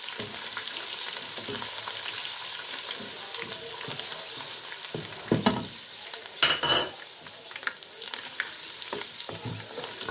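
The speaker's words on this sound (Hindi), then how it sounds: "जैसे ही हमारा लहसुन अदरक ब्राउन होता है हल्का" Garlic and ginger fry in a pan for Punjabi-style sarson ka saag, a steady close sizzle with occasional spoon scrapes and clinks against the pan toward the latter half.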